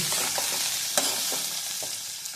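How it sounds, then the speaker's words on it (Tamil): Grated coconut stirred in a hot pan, a continuous close sizzle with soft scraping strokes of a spoon recurring every half second or so. "இப்போ தேங்காய் போட்டுட்டு சும்மா லைட்டாக கிளறி விட்டுருங்க அந்த சூட்டுக்கு"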